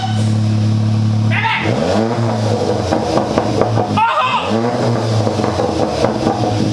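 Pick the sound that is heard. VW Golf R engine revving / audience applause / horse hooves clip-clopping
VW Golf R engine revving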